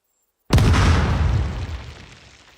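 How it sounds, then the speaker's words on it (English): A dynamite bundle detonates in the building game Planetsmith, one sudden loud, deep boom after silence that rolls and decays slowly over a couple of seconds. "So there is the explosion."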